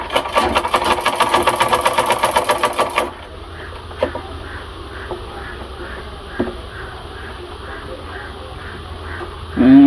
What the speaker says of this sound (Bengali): এখানে ছোটো একটা মোটর লাগানো আছে, মোটর দিয়ে চালায়